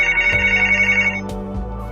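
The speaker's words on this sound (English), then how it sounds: "And that sounds like a telephone call." A telephone ringtone sounds loud and close in an office, a steady electronic tone that rings for about a second, then breaks off and gives way to quieter room noise.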